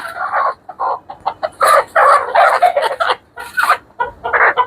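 Desi chickens cluck loudly and close by on a poultry farm in short, repeated bursts, with no one speaking.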